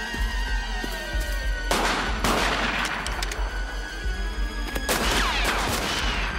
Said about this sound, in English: Shoot them down!